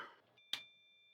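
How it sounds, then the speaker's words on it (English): A HOLOMARQ fingerprint door knob lock with keypad gives a single sharp electronic beep right after its batteries go in, a clear tone that rings on briefly and fades, with faint handling noise just before. "once you get the batteries in, it beeps at you"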